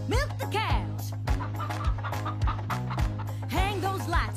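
Cartoon chickens cluck in short, repeated bursts over an upbeat country-style song with a steady beat and a singing voice.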